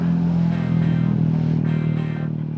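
A small drone hovers close by while being caught by hand over the lakes of San Pablo, Laguna, its propellers giving a steady, loud, droning buzz that holds without a break.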